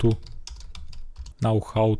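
Computer keyboard keys tapped while entering a command for converting a Python script to an executable, a quick run of light clicks in the first half, then a voice speaking briefly.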